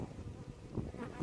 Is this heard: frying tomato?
no